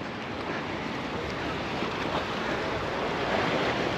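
Sea waves wash against the rocky Lebanese coastline near the Pigeon Rocks in Beirut, a steady, close roar of surf mixed with wind buffeting the microphone, with no voices.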